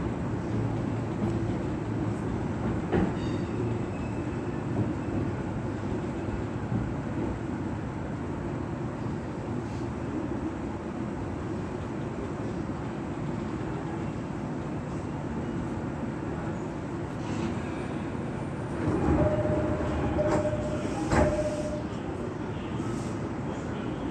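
An E217 series commuter train, car KuHa E217-23, running on a special rapid service to Soga, heard from inside as a steady low rumble of wheels and motors with faint clicks and a brief tone near the end.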